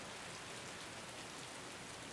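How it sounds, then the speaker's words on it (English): Heavy rain falls in thick sheets, a soft, even hiss of constant wash that stays faint and unbroken throughout. "The rain falls in thick sheets, sporadically, not consistent."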